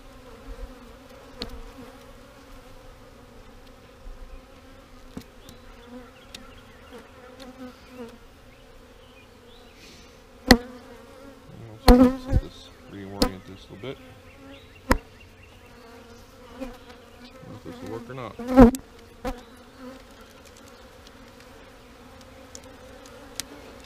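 Agitated honey bees buzz around a swarm during emergency comb repair, a dense continuous hum with scattered close buzzing passes and a few sharp knocks from handling.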